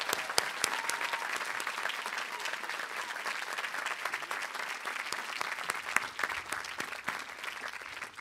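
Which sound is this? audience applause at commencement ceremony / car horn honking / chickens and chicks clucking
audience applause at commencement ceremony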